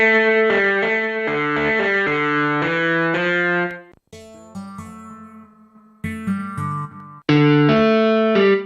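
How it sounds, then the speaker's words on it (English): Synth in Logic Pro for iPad run through a slight, fuzzy distortion effect, playing loud sustained chords, then a quieter stretch of shorter notes and a final bright chord, with no talking. "I want some slight distortion, you know?"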